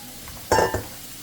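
Apples dropping into melted butter with a cinnamon stick in a pan, one short close burst of sizzling and stirring that quickly fades into a low background hiss.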